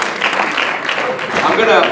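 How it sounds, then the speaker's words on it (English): Applause rises from an audience at a school assembly, a dense spread of clapping that swells toward the end, mixed with a voice speaking over it. "Let's give her one more round of applause for coming in with her story with you"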